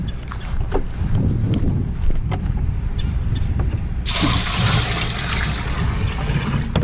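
Salt water from a fishing live well poured out in a sudden heavy gushing splash partway through, after a stretch of lighter trickling and dripping outdoors.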